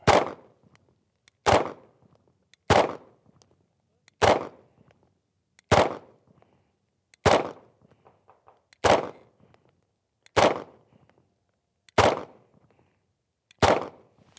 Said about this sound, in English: we're gonna shoot a few more mags out of this thing